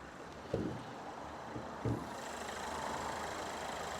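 A Renault Megane 3 1.5 dCi diesel engine (K9K) idles steadily with a low, even rumble, broken by a couple of brief knocks near the start.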